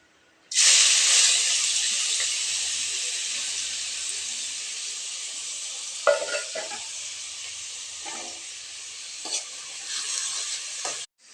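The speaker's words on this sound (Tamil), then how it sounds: "இப்போ எண்ணெய் காஞ்சிருச்சு, வெங்காயம் போட்டுக்கலாங்க" A loud, sustained sizzle bursts in as finely chopped onions hit hot oil and keep hissing steadily, with occasional scraping stirs near the end.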